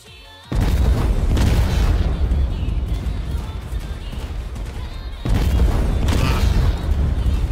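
Heavy booming impact of the Colossal Crusher attack from the Mammoth fruit in Roblox Blox Fruits, a loud sustained rumbling blast that opens abruptly and swells again midway, with no talk over it.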